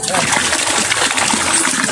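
A strong flow of water splashes and gushes loudly and close by, a continuous rushing spatter with no pause, and a voice can be heard faintly underneath.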